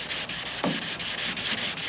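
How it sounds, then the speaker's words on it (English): Sandpaper held by hand rubs back and forth over boat gelcoat during wet sanding, a close, steady scratchy swishing in even strokes with no talking. "if you were to take just the sandpaper by hand and hand sand it like so"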